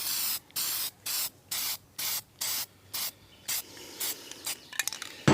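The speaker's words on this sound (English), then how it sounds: "I'm going to put some rust reformer on it." A spray can of rust reformer is used on a 1957 Chevy sedan door dogleg repair: about ten short, evenly spaced hissing bursts, close and loud, then a few sputtering spits and rattles at the end.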